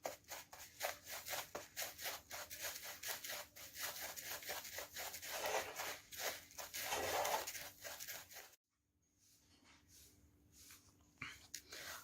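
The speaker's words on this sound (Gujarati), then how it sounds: "હવે આપણે આને બરાબર મિક્સ કરવાનું છે।" Sugar-coated fennel seeds, aamchur and rose powder for mukhwas are mixed by hand, a close, quiet, rhythmic rustling and rubbing of dry seeds that stops abruptly, followed by near silence and a few soft touches.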